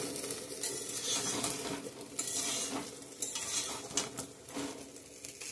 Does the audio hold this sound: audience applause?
no